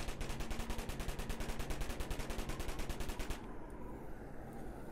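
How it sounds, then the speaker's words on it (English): Dual Uzis fired in a zombie shooter game, a rapid, steady stream of loud automatic shots for about three seconds, then abruptly stopping into quiet background noise. "I'm going to take out my Uzis here"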